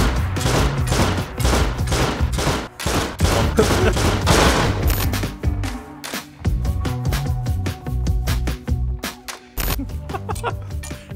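Eoka pistols firing in the Rust video game, with dense rapid gunshots and crackling fire that run loud and continuous for most of the span, then thin out into scattered shots.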